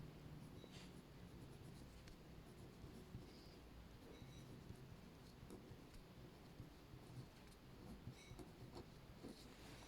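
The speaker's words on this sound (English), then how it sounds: "I'm just writing my reason underneath." Pen scratching steadily on paper while working a trigonometry problem, a continuous soft scraping texture at low level with no talk.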